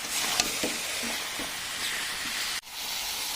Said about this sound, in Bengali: সব কিছু একসাথে আরও ভালো করে কষিয়ে নেব।